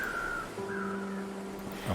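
Crows caw in the snowy wilderness of the survival game The Long Dark, a couple of hoarse calls drawn out over a low ambient drone, moderately distant and with no talk.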